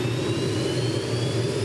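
A police air-support helicopter flying over St. Louis County gives off a steady, droning turbine roar with a low throbbing hum, constant and moderately loud, with no voices.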